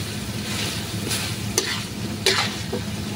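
Chicken intestine adobo simmering with vinegar in a pan, stirred by hand: a steady bubbling sizzle up close, punctuated by a few sharp clinks and scrapes of the spoon, with no voices.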